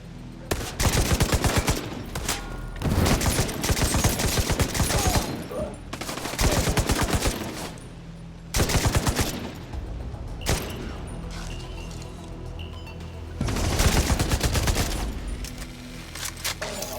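Sustained automatic gunfire in The Division 2: Warlords of New York, loud rattling bursts separated by short pauses across the whole stretch, with no voices over it.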